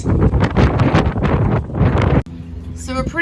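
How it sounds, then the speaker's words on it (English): Strong wind buffets the microphone aboard a boat at anchor off Cumberland Island, a loud roaring rumble that drops out abruptly, with talking in the mix. "it's too windy to put the tender down to explore"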